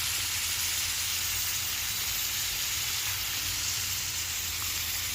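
Ginamos, a fermented fish paste, sautéing in a pan, a steady loud hiss and crackle of frying oil that continues evenly throughout.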